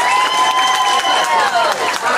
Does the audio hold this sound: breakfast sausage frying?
no